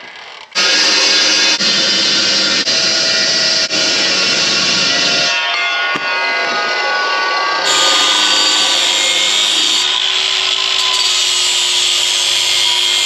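An old chop saw with a dull blade cuts steel in a tractor accessory fabrication shop, giving a loud, continuous grinding whine that starts abruptly and shifts pitch partway through the cut, with no voices.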